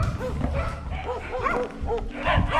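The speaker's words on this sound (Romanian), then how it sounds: "Am găsit o echipă de câini." A team of sled dogs barks and yips excitedly at close range on a mountain trail, with overlapping rapid barks, whimpers and a person talking among them.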